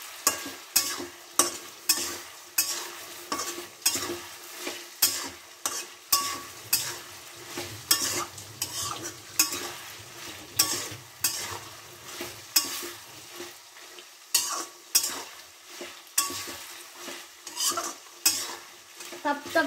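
Buff meat for pickle being stir-fried in a pan: a spoon or spatula scrapes and stirs in a steady, repeated rhythm over a low, continuous sizzle, close up with no talking.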